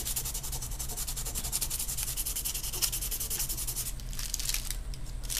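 Sandpaper of 600 grit rubs back and forth over the G10 handle of a Cold Steel knife in quick, steady strokes. The scratchy rasp is close and continuous, with no talking.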